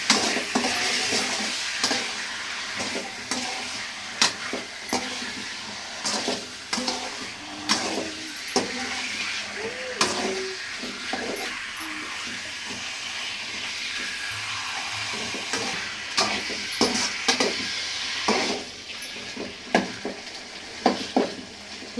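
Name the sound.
stirring liver with turmeric powder in a pan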